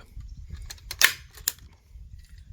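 A Vorel 71052 upholstery stapler (Toya, 4-14mm) with its adjustment screw loosened fires staples, giving two sharp mechanical snaps about half a second apart. Faint clicks and low rumble sit underneath.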